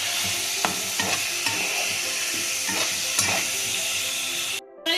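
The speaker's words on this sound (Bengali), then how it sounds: "এবারে আমি এর ভেতরে আলুগুলোকে সব দিয়ে দিলাম। আলুগুলোকে দিয়ে আমি নাড়বো।" Potatoes being stirred into a simmering homemade chicken curry, a continuous sizzle broken by repeated scraping strokes of a spoon, close by, ending in a brief moment of silence.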